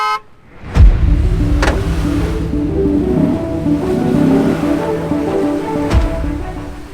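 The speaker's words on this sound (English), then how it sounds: "we agreed to gun it after the second horn" A vehicle horn sounds twice, followed by engines roaring up hard as a Ford Raptor and a Lexus GX460 in 4-low attempt an off-road recovery; loud, sustained engine rumble with a later horn toot, no talk.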